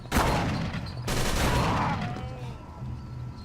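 Rapid gunfire in the Call of Cthulhu video game, a burst of loud close shots that breaks off briefly and then resumes, with a scream-like tone in the middle.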